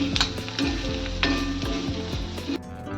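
Chopped onion fries in a pan for a stuffed brinjal recipe, browning as it cooks. The sizzle is loud and steady at close range, with occasional clinks and scrapes of stirring and no talk.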